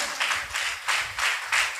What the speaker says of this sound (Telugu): ఇప్పుడు గట్టిగా చప్పట్లు కొట్టాను గట్టిగా చప్పట్లు కొట్టాను.